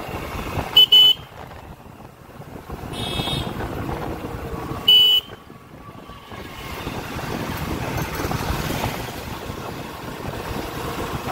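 Honda CB Unicorn motorcycle riding along a road, a steady engine drone with wind rush, interrupted by a few short loud horn toots near the start and middle.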